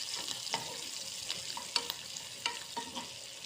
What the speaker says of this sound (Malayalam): ഇതൊന്ന് വാട്ടിയെടുക്കാം.